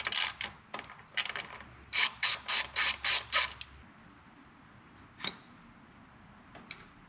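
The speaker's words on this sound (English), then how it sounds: "it's a 10 millimeter socket to get this sensor out" Ratchet turning a 10 mm socket to remove the MAP sensor on an L5P Duramax, a quick run of about six rhythmic clicking strokes after some scattered clicks, close and clear, followed by quieter handling noises.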